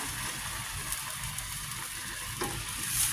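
Boiled mung beans drop into a pan of sautéed aromatics, setting off a steady, moderate sizzle and frying crackle with a soft stir, close up and without talk.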